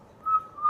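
A person whistles a single thin, steady high tone that rises in loudness and then trails off briefly, close and alone without talking.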